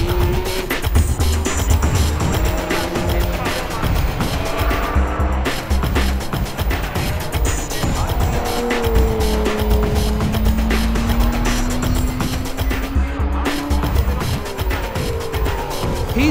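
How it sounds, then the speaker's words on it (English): Nissan Skyline R34 GT-R time attack race car lapping Tsukuba Circuit, heard loud from the passenger seat, its engine roaring steadily through gear changes with rising and falling pitch for the full run. "Here's what a full-blown lap of Tsukuba Circuit looks like from the passenger seat of the Hi Octane Racing GTR."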